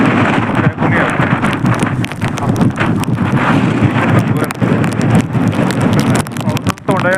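Strong wind roars steadily across the microphone on the Sateri Mahadev temple hill, with rain pattering and buffeting gusts throughout, loud and close.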